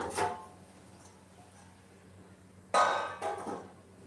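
A lid is set onto a cooking pot holding semolina, giving a sharp metallic clink and clatter near the end, preceded by a lighter knock and quiet stretch, heard close and without talk.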